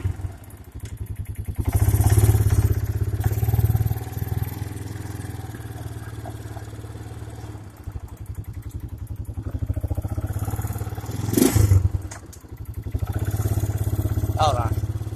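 A four-wheeler ATV engine runs nearby, a loud low rumble that swells and eases with a few thuds and clunks of shifting, while someone talks over it.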